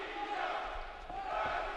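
Crowd at a boxing arena during an amateur world championship bout in Baku, a dense roar of many voices cheering and shouting, swelling slightly toward the end.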